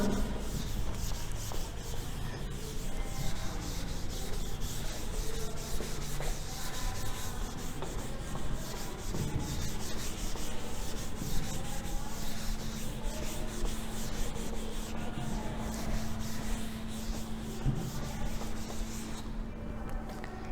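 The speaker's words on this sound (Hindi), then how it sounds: "ये मैं रब कर रही हूँ" Writing being rubbed off a board during a class 8 lesson: a steady, continuous scrubbing rasp that runs unbroken for about twenty seconds, close and fairly loud, with no talking.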